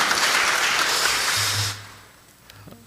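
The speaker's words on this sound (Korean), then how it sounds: "다시 한번 큰 박수로 격려하고 축복하도록 하겠습니다" A church congregation at a Sunday worship service applauds the choir, a full burst of clapping that stops abruptly partway through, leaving quiet room tone with low hum.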